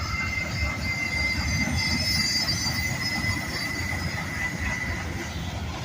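Freight train wheels squeal steadily as the cars roll past, a sustained high metallic screech held over a low rumbling clatter, heard close and continuous with no voices.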